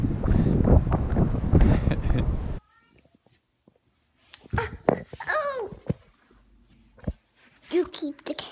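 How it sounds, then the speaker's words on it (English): Strong wind buffets the microphone on a cold coast at Newport, Oregon, a loud rushing roar for about two and a half seconds that cuts off abruptly. Quiet follows, with scattered voices talking. "very cold and windy"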